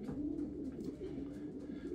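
A pigeon coos softly in low, rolling murmurs, close by, repeated through the short clip with faint background noise.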